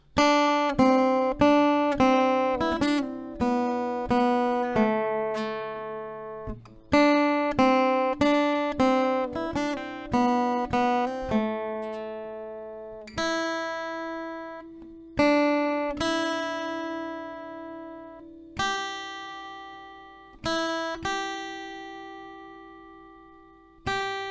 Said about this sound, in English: So the melody goes something like this, just the notes without any strumming.